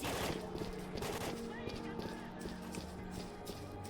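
Rapid gunfire crackles in bursts during a firefight in the video game S.T.A.L.K.E.R.: Call of Pripyat, with repeated close shots over a low musical drone and voices talking in between.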